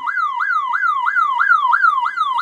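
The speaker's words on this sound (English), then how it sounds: "He set off the alarm to the church." A church alarm wails in a loud, rapid, repeating up-and-down siren sweep, cycling about seven times in quick succession with no voices over it.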